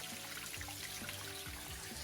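Stream water flowing through a narrow slot canyon above a waterfall, a faint, steady trickling wash with soft gurgles and no voices.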